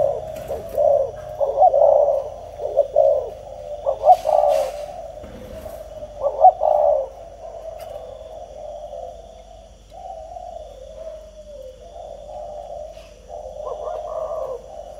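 Paired doves or pigeons coo in steady, repeated low phrases, close and clear, rising and falling in soft rolling bursts with brief pauses and no talking.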